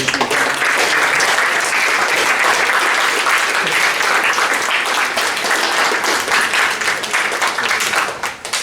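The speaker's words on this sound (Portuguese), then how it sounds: "Acho que podíamos então uma salva de palmas" A school audience at a meeting with a writer breaks into loud, dense applause, a continuous wash of many hands clapping that holds strong for about eight seconds and then drops off at the end.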